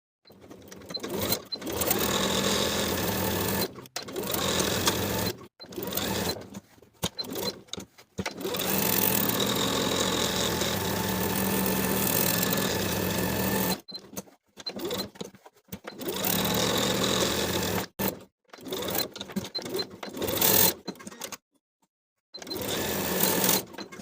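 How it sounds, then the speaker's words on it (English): A sewing machine edge stitches the vertical placket of a blouse, running in long steady bursts with brief stops between runs, close and loud, with no talk. "you can edge stitch that vertical stitching along the placket that we left a gap in earlier"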